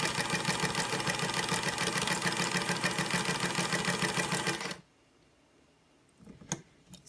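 A sewing machine fitted with an aftermarket bobbin case stitches at a fast, even mechanical clatter for about five seconds, then stops, leaving quiet with a few faint clicks and handling noises.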